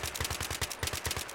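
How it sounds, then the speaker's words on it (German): Rapid automatic gunfire from the video game Battlefield 3 on the Caspian Border map, a steady rattle of loud, close shots fired in quick succession with no pauses. "der Schuss kam so direkt aus meinem Monitor"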